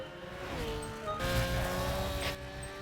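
Race cars in the video game Gran Turismo 5 roar along with engine drone and tire screech, a louder burst of grinding, banging noise midway suggesting a collision, steady and close throughout.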